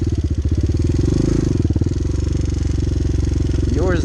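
A Honda Hawk 250 motorcycle engine putters loudly at low revs in a steady, throbbing pulse as the rider barely eases off the clutch and creeps forward.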